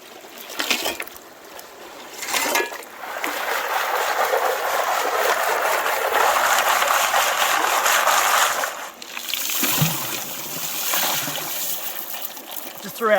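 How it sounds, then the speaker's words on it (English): Fast stream water rushing down and ricocheting off a large boulder, forming an eddy: a steady, loud broadband roar that swells and dips, with splashy bursts near the start and toward the end. "The fast water comes down, ricochets off this, and it creates an eddy along this whole length."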